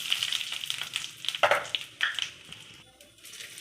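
Cumin seeds fry in a hot wok for a chicken-skin dish, a bright continuous sizzle with crackling bursts and a stirring scrape or two, close and free of speech.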